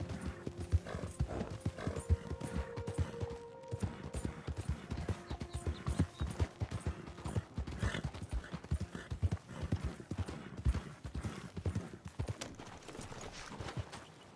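In the Western video game Red Dead Redemption 2, a horse's hooves clip-clop continuously at a brisk, even pace for several seconds, close and prominent over quiet ambient game sound.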